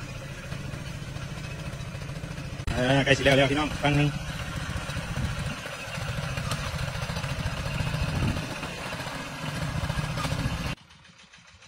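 A farm tractor engine chugs steadily at close range while someone talks over it in Thai; the rumble cuts off abruptly near the end.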